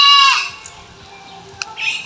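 A goat on a backyard farm gives a loud, harmonic bleat at the start, followed by quieter stretches of low rustle and a second, fainter bleat near the end.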